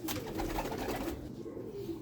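A young female Teddy pigeon of the pure golden Sialkot breeder line coos in soft, repeated low murmurs, close by and steady for the whole moment, with no talking.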